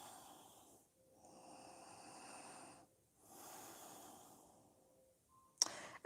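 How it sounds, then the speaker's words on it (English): Slow, audible nasal breathing during a yoga session, a few long airy inhales and exhales with brief pauses between them, close and soft, followed by a short sharp click at the end. "breathing through your nose."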